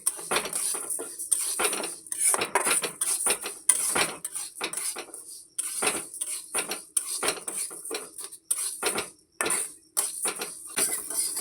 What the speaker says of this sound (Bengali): কড়াইয়ের মধ্যে ভেজে নেব